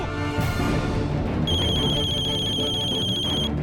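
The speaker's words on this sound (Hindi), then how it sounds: "फिर भी फोन बज रहा है" An electronic phone ringtone trills steadily and fairly loud over a dense, busy background, without speech.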